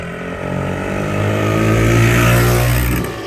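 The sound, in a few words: motorcycle engine revving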